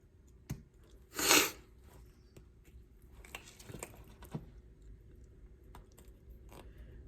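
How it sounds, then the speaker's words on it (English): A knife works through the wing joint of a merganser duck carcass, with soft, close cutting, squishing and crunching sounds and one sharper snap early on, faint and alone. "Okay, so now I'm gonna cut this wing off here."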